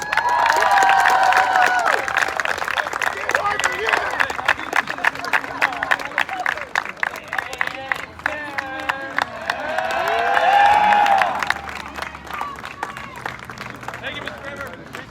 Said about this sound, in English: give both teams a big round of applause for tonight's game